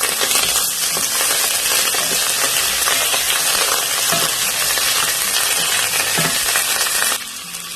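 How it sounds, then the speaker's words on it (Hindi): Potato pieces fry in hot oil for an egg and potato curry, a loud continuous sizzle with crackling pops that holds steady throughout, easing slightly near the end. "ऑयल जैसे ही हल्का सा गर्म हो, ये मैं जो पीसेस हैं आलू के वो मैं डाल रही हूँ इसमें। उसको हल्का सा फ्राई करूंगी।"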